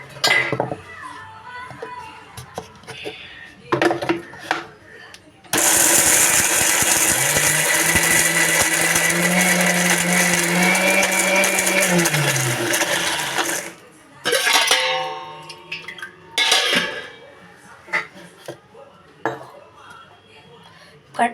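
After some clinking and handling noises, an electric mixer grinder roars loudly for about eight seconds grinding a chutney with added water, then stops, followed by more clattering.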